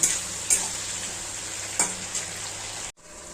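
Prawns frying in hot oil in a pan, a dense, steady sizzle with a few brief spatter pops and scrapes, close by, with a short dropout near the end.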